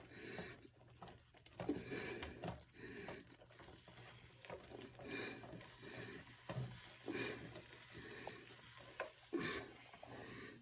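Bouillon and cold water gravy mix being stirred in a hot pan, with a steady soft sizzle and bubbling under repeated scraping and stirring strokes, continuous and close throughout.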